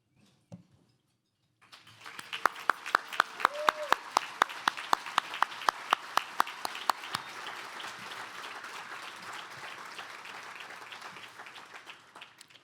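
Audience at a charity gala bursts into applause that builds quickly and holds as a dense, sustained wash. A few sharp, close claps stand out over the crowd, and faint voices come through early on.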